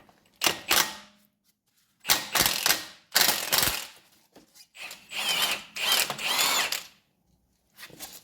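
Power tool on a Mini Cooper R50 strut spins off the 21mm top nut in several loud mechanical whirring bursts separated by short silences, close to the mic, with no talking.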